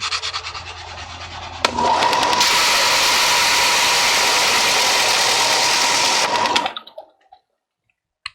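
A belt sander whirs up and grinds loudly against plastic armor pieces for several seconds, a steady dense roar close by, then spins down and stops into silence.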